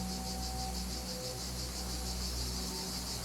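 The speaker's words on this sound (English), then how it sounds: "Especially when the cicadas are back, singing day and night." Cicadas sing through a summer day, a dense, steady high-pitched buzz with a gentle pulsing texture that runs unbroken and fairly loud from start to end, with no voices.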